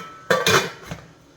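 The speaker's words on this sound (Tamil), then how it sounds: "இப்போ கொழுக்கட்டையை இட்லி கொப்பரையில் வச்சு மூடியை போட்டு" A metal lid is set down on an idli steamer pot holding kozhukattai, a quick pair of clanks followed by a softer settling clink, close and alone.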